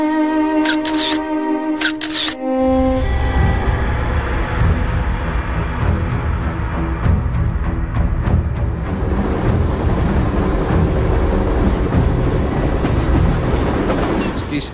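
A train running on rails fills the clip with a loud, continuous rolling rumble and rhythmic clatter. It follows a brief opening of steady musical tones.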